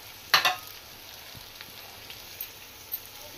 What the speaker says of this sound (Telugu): అల్లం వెల్లుల్లిపాయ పేస్ట్ మంచిగా ఇట్లా ఎర్రగా వేగాలి